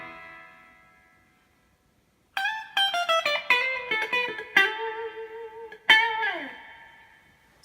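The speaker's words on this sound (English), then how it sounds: "So it gets pretty heavy on the reverb" An electric guitar plays through a 1980 Fender Pro Reverb amp with a 12AU7 tube and the reverb set heavy: a fading tail, a silent gap, then a run of plucked notes and a final chord, each ringing out with a long, washy decay.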